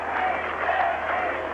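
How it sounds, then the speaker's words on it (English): Olympic tennis crowd at the 1988 Games chanting a player's name, Steffi, a dense, steady roar of many voices filling the short stretch without pause. "And the crowd around us chanting,"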